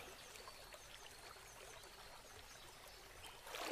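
Water trickling and lapping gently in a bath, a faint, soft continuous stream with a brief louder splash at the end and no voices.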